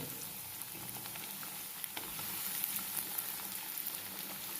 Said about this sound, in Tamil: எண்ணெய் மீடியமாக காஞ்ச உடனே தீயை சிம்மில் வச்சுட்டு அதில் இந்த கட் பண்ண ப்ரெட்டை போடணும்